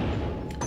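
A single loud booming gunshot fires at a bottle in Resident Evil 4, a short dense blast that fills the moment up close.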